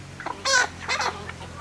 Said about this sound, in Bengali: মুরগিগুলারে খাবার দেব